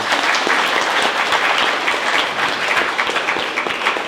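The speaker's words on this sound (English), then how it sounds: "Let's give a round of applause." A crowd at a university venture competition final breaks into a sustained round of applause, dense steady clapping from many hands filling the room.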